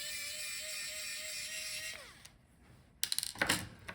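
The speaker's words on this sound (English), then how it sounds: "Now we can take out this screw on the top." A small screw is backed out of the Wi-Fi card inside a Lenovo Legion Y540 laptop, a steady whine giving way to quiet, then close clicking and scraping bursts of a screwdriver working, no talking.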